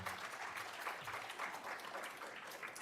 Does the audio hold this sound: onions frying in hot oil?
no